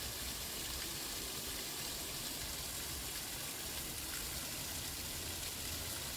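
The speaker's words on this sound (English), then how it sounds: "on our way down I found this uh, beautiful little waterfall here" A small waterfall along the Appalachian Trail in Virginia gives a steady, dense rush of falling water, constant and fairly close, with no other sounds standing out.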